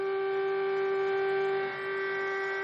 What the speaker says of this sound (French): Les sirènes ont retenti et Xi Jinping est apparu